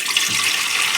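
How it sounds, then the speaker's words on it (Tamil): Water poured into a pan while cooking cauliflower gravy, a steady, close splashing stream running throughout, with no talking. "ஒரு சட்டியில் தண்ணி ஊற்றிக்கலாம்."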